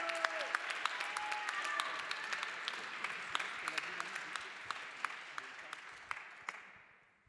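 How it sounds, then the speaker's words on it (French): Audience at a February 2020 art-and-health debate contest applauding the participants: many hands clapping with crisp individual claps standing out, voices faintly mixed in, the applause gradually thinning and fading out near the end. "On les applaudit encore très très fort"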